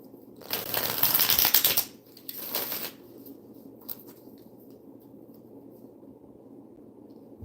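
Tarot cards being shuffled in two bursts of crisp, fluttering riffles, the first about a second and a half long, the second shorter, followed by quiet room tone with a faint tap.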